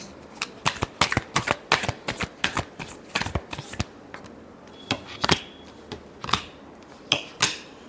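Cards shuffled for a tarot reading, quick irregular slaps and riffles of the deck held near, with pauses between bursts and no talking.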